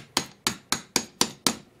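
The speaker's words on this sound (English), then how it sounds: "So we're going to take the cap and this hammer." A hammer taps a cap into a motorcycle shock body during an RM250 shock rebuild, six sharp, evenly spaced metallic knocks at close range, each one ringing briefly before the next.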